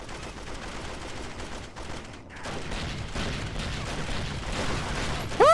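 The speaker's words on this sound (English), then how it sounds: "Someone's shooting me with rockets!" Gunfire and rocket blasts in the 007 Agent Under Fire video game crackle in a dense, continuous barrage, with sharp bursts and rumbling impacts layered under game ambience and a rising tone at the end.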